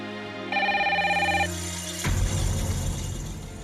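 A telephone rings with one sustained electronic tone, then cuts off into a lower buzzing tone on a call line, fairly loud and alone with no voices.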